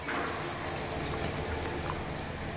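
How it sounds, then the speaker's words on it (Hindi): Water poured into a pot for dal khichdi, about 800 ml, a continuous close splashing gush that stays steady throughout. "800 ml का पानी डाल दिया इसमें."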